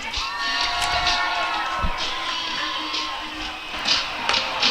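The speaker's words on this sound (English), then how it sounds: "So let's cheer him on, okay?" A crowd at a Chicago Bandits softball game cheers and shouts, children's voices among them, as a fan attempts a wiffle ball toss into buckets; steady, lively cheering with whoops.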